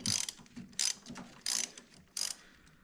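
A wrench ratchets as a bolt is loosened on the steering rack of a Hammerhead GTS 150 go-kart front end: four quiet, short clicking bursts, evenly spaced and close by.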